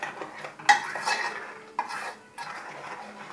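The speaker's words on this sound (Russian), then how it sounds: "Тщательно мешаю, мешаю." Blueberry jam cooking in a pot is stirred with a utensil that scrapes and knocks against the pot in a few close, distinct strokes, with no voices.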